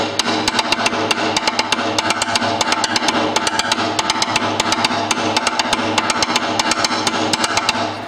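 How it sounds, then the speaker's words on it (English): A drum groove played as a steady stream of triplets, with regular cymbal or hi-hat strikes and a low kick pulse repeating evenly and loudly throughout, with no voices. "It's like a bunch of triplets."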